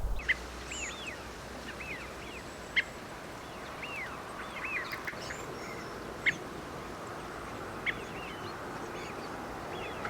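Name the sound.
thrush-like bird's gentle seep call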